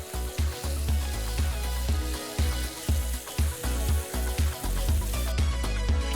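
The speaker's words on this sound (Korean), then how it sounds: "기름을 두른 팬에 가리비 꼬치를 올려놓고 구워준다" Scallop skewers fry in an oiled pan with a steady loud sizzle, broken by regular soft thumps and clatter as the cooking goes on.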